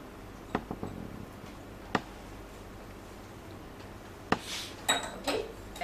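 A spoon clinks and taps against a container while an aloe vera product is stirred, a few sharp isolated knocks spaced apart and then a short cluster of scraping clinks, fairly quiet.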